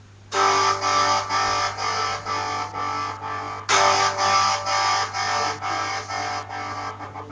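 Distorted electric guitar chords through a Guitar Rig tremolo effect pulse in a steady choppy tremolo, the sound stuttering rhythmically; a second strum restarts the wavering pattern midway.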